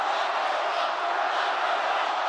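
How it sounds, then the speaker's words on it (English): A large crowd at a Trump rally roars and chants in a steady, continuous wash of many voices, heard at a distance with no pauses. "The crowd chanted "Lock her up" at every Trump rally"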